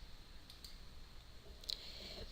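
A single computer mouse click, faint and brief, taps once against quiet room tone as a spreadsheet pivot table option is selected.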